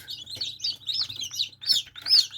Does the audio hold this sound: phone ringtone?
no